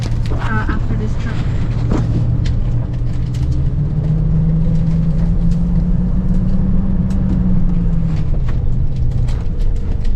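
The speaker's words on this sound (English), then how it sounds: "After this truck." A truck drives past at an RV campground, a low engine rumble that swells and then fades over several seconds beneath constant road and wind noise, with people talking nearby.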